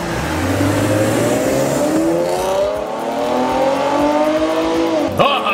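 A car in an animated comedy revs hard and pulls away, its engine note climbing steadily in pitch through several gear-like sweeps, loud and close, ending with a brief sharp squeal or whoosh.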